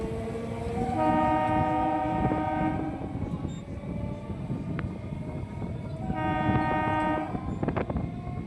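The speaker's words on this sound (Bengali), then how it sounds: "বন্ধুরা আমাদের ট্রেন এসে পৌঁছালো সুভাষগ্রাম" A local train on a Bengal suburban line pulling into a station, its loud horn sounding in two long blasts separated by several seconds, over a steady rumble of carriages and wheels, with no voices.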